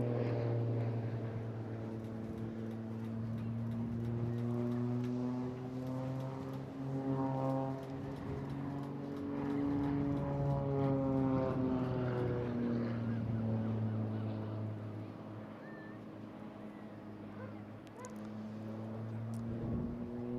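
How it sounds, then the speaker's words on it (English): Unlimited aerobatics aircraft performing at the Eastbourne International Airshow, a steady droning engine tone that rises and falls in pitch as it manoeuvres, heard from a distance and fairly faint throughout, with no talk. "The aircraft purposely built for this form of unlimited aerobatics"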